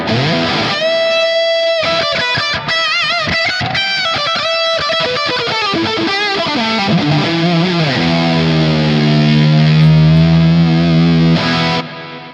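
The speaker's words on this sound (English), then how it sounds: "snapshot 4 is a full-on lead with the delay and the reverb engaged, and also the Timmy." Distorted electric guitar plays a lead line through a Line 6 HX FX processor with delay, reverb and a Timmy overdrive engaged. Fast, loud notes with echoing repeats give way to sustained bends that ring out before stopping abruptly.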